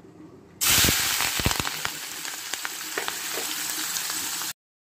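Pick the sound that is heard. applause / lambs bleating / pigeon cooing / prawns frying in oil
prawns frying in oil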